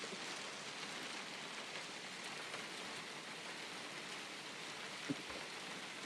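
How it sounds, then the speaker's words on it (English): Hail falls steadily during a severe storm, a continuous broad hiss of ice hitting the ground with one sharp knock near the end, no voices. "that hail, it's definitely falling right now"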